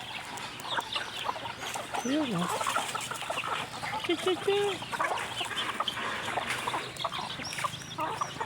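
Chickens cluck at close range in a backyard coop where newly hatched chicks are kept, short rising calls repeating over steady flock chatter while a person talks and calls to them.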